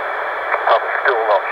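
Amateur radio static on a portable station, a steady band of hiss with a faint, barely intelligible voice fading in and out beneath it, heard alone.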